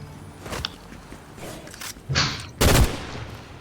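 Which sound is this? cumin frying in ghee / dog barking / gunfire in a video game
gunfire in a video game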